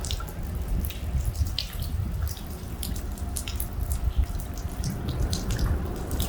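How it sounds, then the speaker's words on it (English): Water trickles and drips steadily down a hollow pipe outdoors on a nature walk, a close, continuous patter of small splashes with no talking. "It's hollow and then dripping from up above all the way down."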